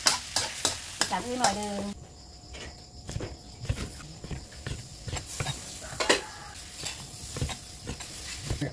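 Kaffir lime leaves and Thai basil are stir-fried in a pan, with a steady oily sizzle and repeated scraping strokes of a spatula close by, and a brief spoken remark near the start.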